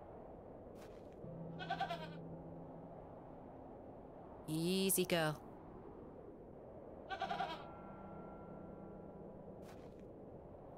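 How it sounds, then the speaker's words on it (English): A goat bleats loudly once in the middle of a point-and-click horror video game, with shorter bleat-like calls before and after; someone speaks briefly over a quiet hum. "I'm not fond of goats at the best of times"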